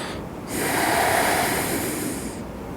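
Slow, deep belly breath during a back-focused yoga session, a long airy whoosh rising and holding for about two seconds, close and steady over a soft hiss, with no talking.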